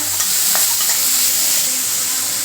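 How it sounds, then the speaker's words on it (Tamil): Continuous loud sizzling of onions sautéing in a pan for a Tamil-style greens stir-fry, with occasional scrapes of stirring and no voices. "வெங்காயம் நல்லா வதங்கிடுச்சுங்க"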